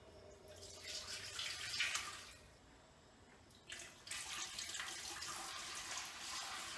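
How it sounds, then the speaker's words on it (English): Vinegar pours into a stock pot heating on a stove, a soft splashing trickle that swells, pauses briefly, then resumes steadily, faint and close. "we're going to pop in to our stock pot our vinegar"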